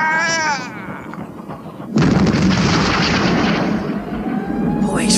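Cannon fire in the 1989 animated series TUGS: a single loud, heavy boom breaks out after a spoken command, followed by a long rumbling, crackling wash that slowly fades.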